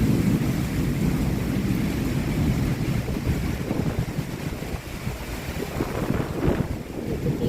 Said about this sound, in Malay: sangat lebat angin no